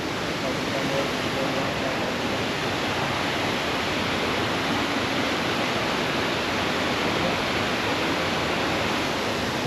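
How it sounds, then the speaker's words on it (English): A steady, dense roar of falling water from a waterfall in the Smoky Mountains fills the whole stretch, loud and unbroken, heard from nearby. "the waterfall we're looking for"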